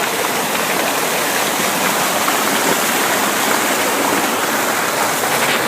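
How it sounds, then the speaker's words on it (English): Water rushing through weir pipes at a river construction site: a loud, steady broadband roar with no breaks, heard up close and alone. "During construction, all the water is coming through these pipes instead of over the top."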